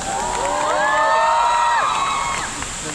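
A concert audience at an outdoor art plaza cheering and shouting, with rising whoops and excited voices swelling together for a few seconds and then fading, fairly close and loud.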